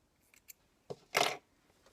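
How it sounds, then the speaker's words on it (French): Scissors snipping sewing threads after a dress armhole is stitched, a few faint small clicks followed by one brief, crisp cutting snip, close and quiet in a hushed room. "Vous venez couper vos fils."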